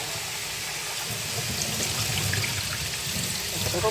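Tap water runs steadily while lentils are rinsed clean in a home kitchen, a continuous close hiss and trickle with no talking.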